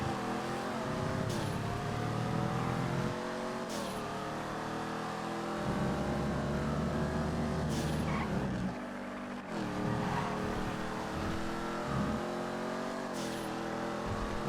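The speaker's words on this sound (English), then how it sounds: "regular Dominator, now that's a challenging car" A Dominator muscle car in GTA FiveM drives hard, its engine revving up and down through repeated gear-like surges with brief tire squeals, loud and continuous, no talk.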